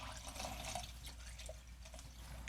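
Homemade Caffenol film developer is poured into a developing tank, producing faint, irregular trickling and dripping splashes over a steady low hum.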